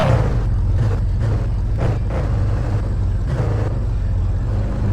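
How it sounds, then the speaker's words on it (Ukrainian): A car engine runs steadily in Car For Sale Simulator 23, a low continuous drone with a few brief higher-pitched surges, loud and close throughout with no talking. "це ось двигун у неї"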